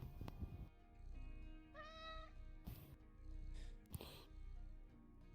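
A voice mimics a cat with a short, high, wavering meow in the middle, set against a busy background of steady hum and scattered bumps and clicks, during a VRChat role-play.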